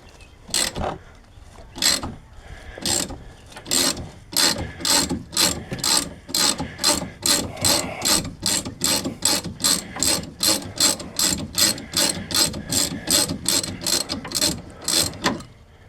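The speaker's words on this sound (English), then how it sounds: "Wrench on the end here, a little more leverage." A ratchet wrench clicks in rapid, evenly spaced bursts while working a tight brake caliper bracket bolt on a 2007 Chevy Impala's rear brakes, close and loud with no talk.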